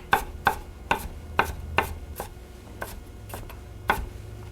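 Vegetables for egg rolls being chopped with a knife on a board, about ten crisp, fairly regular thuds spaced roughly half a second apart, close and clear with no talking.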